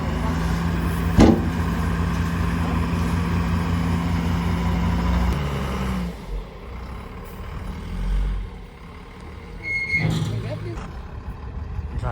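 A truck arrives at a house construction site with a steady, rumbling engine and a brief air-brake hiss. The engine fades after about six seconds, and a few high beeps and clanks follow nearby.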